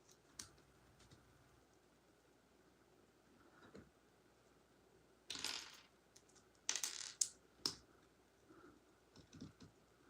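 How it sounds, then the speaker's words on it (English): LEGO bricks from a Desert Skiff and Sarlacc Pit set snap and click together in scattered bursts, with faint clatter of loose pieces in a quiet room. "clicking some bricks"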